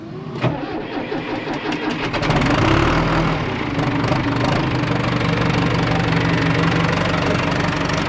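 On a cold morning, a diesel engine on a farm machine labeled 27 cranks after its fuel gelled the day before, even though it was plugged in overnight. A brief starter whir gives way to a rough catch, then a loud, steady idle with a low rumble.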